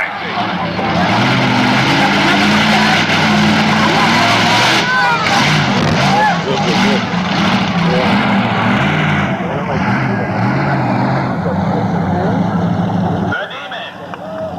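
Monster truck engines revving at an outdoor monster truck show at Buck Motorsports Park, a loud sustained roar with surging revs that suddenly cuts off near the end, with an announcer talking over it.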